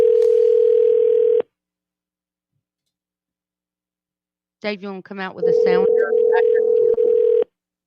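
A telephone dial tone sounds alone and loud for over a second, then after a gap a voice speaks briefly before the steady dial tone returns, part of placing a call during a morning country radio show.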